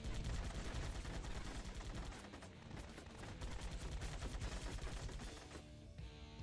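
Rapid, sustained gunfire from a turret in the 2008 Iron Man PC game, dense bursts of shots running nearly continuously at close range with a brief lull midway, loud and without talk.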